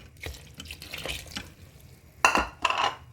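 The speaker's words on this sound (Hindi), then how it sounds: "अब इस स्टेज पे हम 1 गिलास भर के नॉर्मल पानी का डाल देंगे" A glass of water poured into kadhi simmering in a pressure cooker pot, soft stirring and sloshing at first, then two louder splashing pours near the end, close by.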